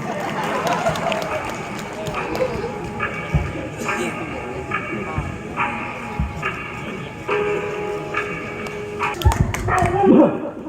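An actor on stage in a devotional drama imitates a dog, voicing barks, yips and whimpers over loud background noise, with other voices speaking nearby.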